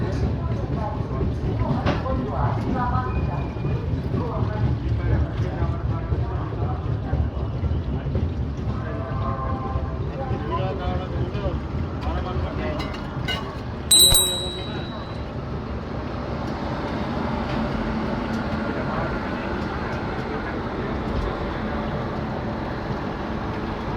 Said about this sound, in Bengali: বেশ কিছুক্ষণ দাঁড়িয়ে থাকার পর ফাইনালি ট্রেন মালদা থেকে বেরিয়ে যাচ্ছে